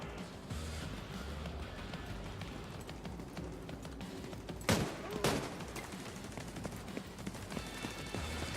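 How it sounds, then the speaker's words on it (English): Rapid gunfire from the video game The Division 2, played on PC, as an enemy climbs over a wall: continuous sharp shots crackle throughout, with two louder, close bursts near the middle and no one talking. "I shot that guy during his crawl over the wall animation."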